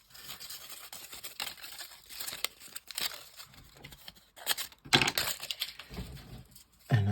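Scissors snipping through the paper backing of washi tape, close and crisp, with scattered cuts and rustling of paper, then a sharper cluster of snips and a low thump at the end; no one speaks.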